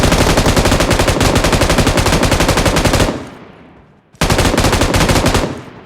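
Sustained automatic gunfire spray in the mobile battle royale game PUBG Mobile, a dense rapid stream of loud shots lasting about three seconds, a short pause, then another long burst.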